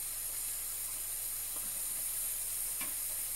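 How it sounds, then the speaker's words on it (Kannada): Country chicken sukka with liver and ground masala sizzles and bubbles in a pan, a steady, soft frying hiss with faint stirring clinks, close by with no talk. "ಈಗ ಇನ್ನು ಇದಕ್ಕೆ ನಾವು ಕಡ್ದ ಮಸಾಲೆ ಉಂಟಲ್ಲ ಅದನ್ನು ಹಾಕಿ ಸರಿ ಕುದಿಸ್ಬೇಕು."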